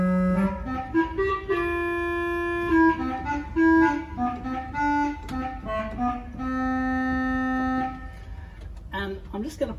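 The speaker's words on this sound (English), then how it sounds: "So our clarinet sounds like this." Clarinet stop on a Willis pipe organ in a church, sounding sustained reedy notes in a slow melodic line with steady held chords, clear and fairly close, with no talking.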